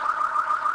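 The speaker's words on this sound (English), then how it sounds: "Alarms. Yeah, alarms." A loud electronic alarm going off, a continuous warbling high tone that wavers steadily for the whole short stretch with no speech.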